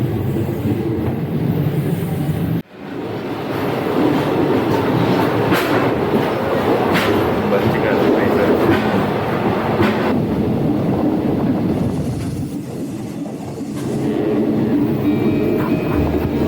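An East Coast sleeper train rolls along on its rails from inside the carriage, a loud steady rumble with clickety-clack wheel beats and a short sharp break near the start, and a brief spoken remark.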